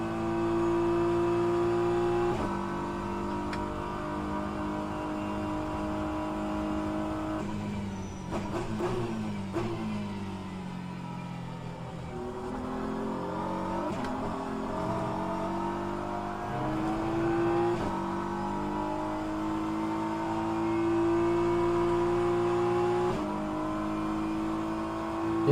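Race car engine in rFactor 2 at Interlagos, heard as a sustained, steady engine whine through laps that dips while the car slows for corners and rises again on acceleration, without pause and with no talk.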